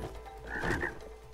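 A frog croaks when struck in the co-op video game It Takes Two, one short, clear croak standing alone.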